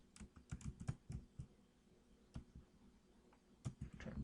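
Quiet close typing on a computer keyboard, bursts of rapid key taps entering a short word into a terminal, with a pause in the middle before a few more keystrokes.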